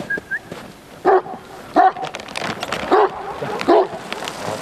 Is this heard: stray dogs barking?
yes